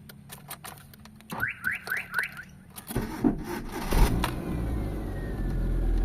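A Mitsubishi Lancer GLXi runs after a cold start, having just had a new MAP sensor, servo and distributor fitted. Four quick rising chirps come first, then a steady engine rumble builds and holds, loud and close.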